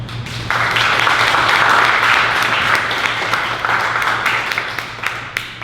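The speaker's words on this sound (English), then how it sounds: "please give a round of applause to Ms. Stephanie Seaman" An audience applauds for Ms. Stephanie Seaman at an event, a dense, steady wash of clapping that holds loud for several seconds and then slowly thins toward the end, with a low steady hum running underneath.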